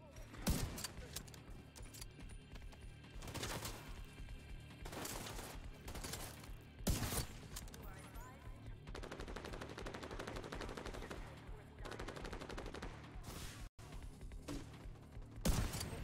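Sustained automatic turret gunfire from The Division 2 video game, rapid bursts of shots repeating across the whole stretch with loud sharp peaks, heard alone with no talking.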